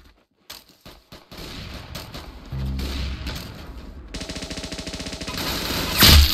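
Gunfire in the video game Arsenal comes first as a few sharp, isolated shots, then breaks into dense, rapid automatic bursts, ending on a louder blast.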